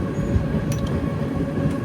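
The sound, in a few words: Kacheguda Express train moving slowly on the tracks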